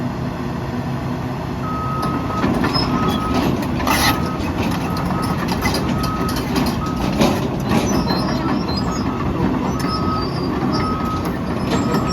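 A Caterpillar 320E long-reach arm excavator sounds steady, repeating reversing beeps over a continuous diesel engine rumble while it parks, the beeping moderately near and running through the whole stretch with no voices.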